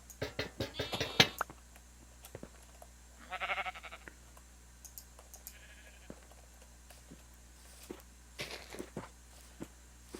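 A sheep bleats in Minecraft amid scattered footsteps and small clicks, with a clear wavering bleat near the start, another midway and a fainter one later, moderately close with no talk.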